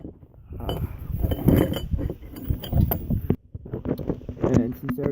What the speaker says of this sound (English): here's my 18 mil deep socket with a 3/8 ratchet and my breaker bar